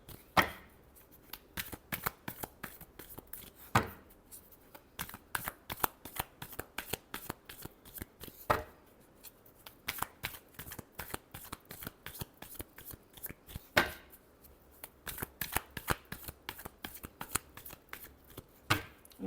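Tarot cards being shuffled by hand, a fast, quiet, continuous run of crisp riffling clicks with periodic sharper snaps as the deck is bridged and squared, no voices.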